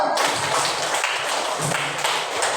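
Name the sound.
rhythmic spirit clapping by a group of students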